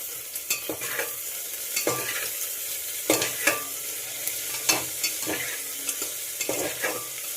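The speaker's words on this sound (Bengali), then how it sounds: "গ্যাসটা লো টু মিডিয়ামে রেখে মশলাগুলোকে কষিয়ে নিতে হবে।" Chopped tomato, salt and spices frying in a pan over low-to-medium gas heat, a quiet continuous sizzle broken by repeated close scraping strokes of a spoon stirring the mixture.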